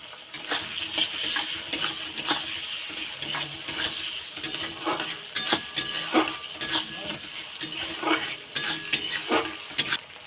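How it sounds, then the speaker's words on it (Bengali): Tomato and green chilli with ginger-garlic paste frying and being stirred in a pan for a rohu fish curry with potato, a steady close sizzle broken by frequent scraping stirs and clinks of a spoon against the pan. "এটা ভালো করে ভেজে নিয়েছি"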